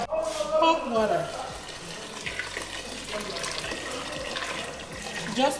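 Water from a tap runs and splashes into a pot of rice, filling it just enough to cover the grains, close and fairly quiet with a person talking over it.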